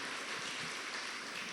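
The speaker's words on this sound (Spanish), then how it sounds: "Denle un fuerte aplauso al Rey de Reyes" A congregation at a church service breaks into a steady wash of applause, even and sustained throughout, heard from a distance with no voices above it.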